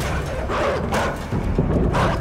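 A dog barks several times in the video game Inside, short loud yelps close by over a busy, noisy game background.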